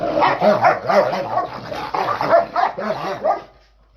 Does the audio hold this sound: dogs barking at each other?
yes